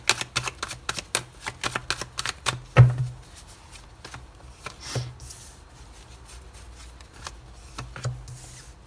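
Cards from the Améthyste Love oracle deck are shuffled and drawn close by, with quick riffling flicks at first and then slower slides and taps, no talk over them.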